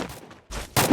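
Gunfire in a shooter video game: a couple of loud, sharp bursts close together, separated by a brief quiet gap.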